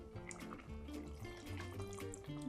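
Water is poured into a pot of meat for a stew, a soft, faint trickling and filling sound running steadily under music in a home kitchen.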